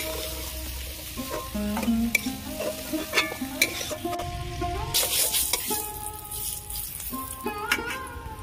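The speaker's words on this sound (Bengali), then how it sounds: "চিংড়ি ভাজা হয়ে গেছে, তুলে নেব" Shrimp frying in hot oil in a pan while being stirred and lifted out, a continuous sizzle broken by scraping and rattling of a utensil against the pan, close and busy, with no talking.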